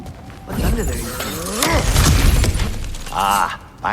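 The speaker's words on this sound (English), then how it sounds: "back to smashing through things for fun and profit" In God of War Ragnarök, cracked ground is smashed through with a loud shattering crash and crumbling debris, mixed with strained vocal effort sounds and a brief louder burst near the end.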